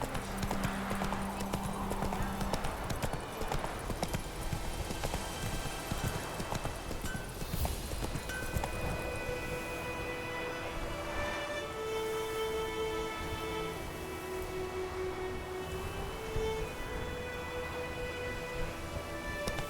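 Horse hooves clip-clop steadily through the whole stretch in The Witcher 3, a continuous trotting rhythm mixed with ambient game sound, light rain and faint background voices.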